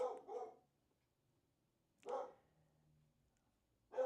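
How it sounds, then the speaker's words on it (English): Three separate dog barks spaced apart, the first a quick double, each sharp and fairly close against near silence. "Sorry about my dog, guys."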